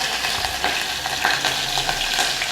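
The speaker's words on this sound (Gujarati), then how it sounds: "તેલ આપણું ગરમ થઈ ગયું છે રહી નાખશું લસણ આદુની પેસ્ટ લીલા મરચાં" Garlic-ginger paste and green chillies sizzle and crackle steadily in hot oil, a close, continuous frying hiss with a few stirring scrapes and no talk.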